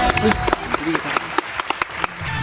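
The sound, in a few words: audience applause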